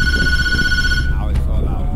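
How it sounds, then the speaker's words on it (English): A phone rings in the horror game Tattletail: a loud, steady electronic ringtone that cuts off after about a second, followed by a short burst of noise, with speech underneath. "Oh my god, it's my phone."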